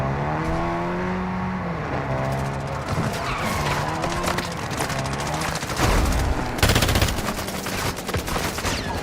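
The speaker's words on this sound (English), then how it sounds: "You are taking effective fire" Gunfire in the Call of Duty DMZ video game: rapid bursts of automatic weapon fire and sharp shots pepper a busy battle scene, mixed with vehicle engine noise and skidding, loud and dense throughout.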